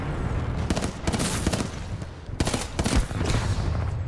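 Gunfire aimed at a Legion titan in Titanfall 2, with loud bursts of rapid shots in two clusters and a steady rumbling battle din underneath, no talking.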